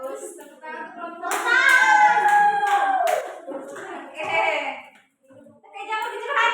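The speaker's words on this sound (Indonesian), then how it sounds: "Bagus, tepuk tangan untuk kelompok." A classroom of students applauds a group, with a burst of hand clapping mixed with children's voices talking over it.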